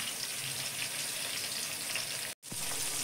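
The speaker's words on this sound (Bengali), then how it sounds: "আমি কীরকম ভাজছি দেখুন, এইভাবে ভেজে নিয়েছি।" Steady sizzling of cauliflower frying in a pan, a continuous crackling hiss with one brief dropout near the end.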